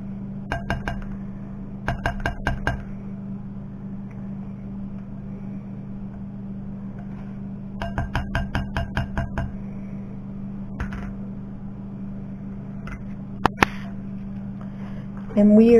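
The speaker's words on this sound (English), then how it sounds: "And we are just going to mix this around until it comes all together." A spoon stirring softened butter and corn syrup in a glass bowl makes quick bursts of bright clinking against the glass, separated by pauses, over a steady low background hum.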